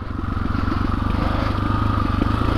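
A 2021 KTM 500 EXC-F dirt bike rides over rough terrain, its close, loud engine running in a fast, steady chugging pulse, with clattering and scraping from the bumpy ground.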